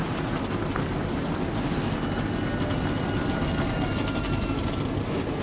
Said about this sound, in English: Engines are fired up.